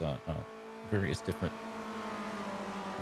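Spec Racer Ford race cars in a sim racing game at Indy Road course, engines droning steadily with harmonic whine, a pack of cars battling together, continuous and moderately loud under a speaking voice.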